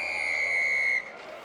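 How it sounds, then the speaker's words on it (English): A rugby referee at a men's Olympic repechage match in Monaco, Russia versus Germany, gives a single loud, sustained whistle blast lasting about a second, with faint crowd noise behind it. "With a loud blast of the whistle."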